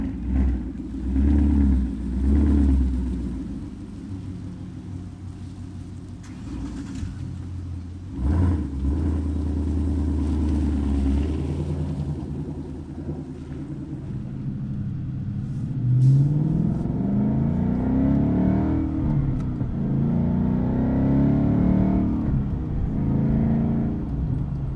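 A procharged car engine pulling at part throttle, rising and falling in a revving rumble with rough, uneven surges, heard close from inside the car, with no talking.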